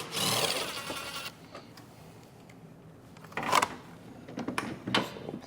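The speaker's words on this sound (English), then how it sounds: "Next step is unbolting the computer right here. Some 10mm bolts holding it in." Metal clicks and ratcheting come in short bursts as 10mm bolts are undone on the engine computer of a 2012–2014 Honda Civic with the 1.8 L engine, close and fairly loud, with quiet pauses between bursts and no talking.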